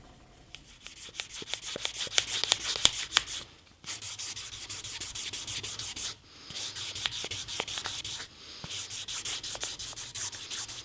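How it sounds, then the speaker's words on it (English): A knife handle on a Damascus K-tip gyuto is hand sanded with 1500 grit sandpaper. Quick rhythmic back-and-forth rasping strokes run close and steady in three bursts with brief pauses between them. "I'm now finishing it out with some 1500 grit"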